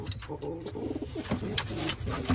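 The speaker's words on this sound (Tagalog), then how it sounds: "Ito naman ang ating champion bird." A racing pigeon coos softly inside a mail loft, giving a few low, throaty murmurs close by with faint talk in the background.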